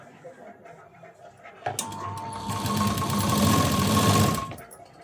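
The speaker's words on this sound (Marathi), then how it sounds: "तर अगदी सावकाश अशी इथं कडेला शिलाई द्यायची" A sewing machine stitches the edge of a sleeve, starting after a click and running in a fast, rattling hum for about two and a half seconds before stopping abruptly. Someone speaks briefly before it starts.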